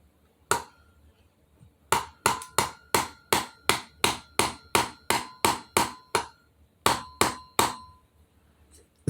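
Repeated hammer blows fitting a vent window into the door of a 1964 Ford F100 pickup, about sixteen sharp metallic strikes in a steady rhythm with one short pause, close and loud.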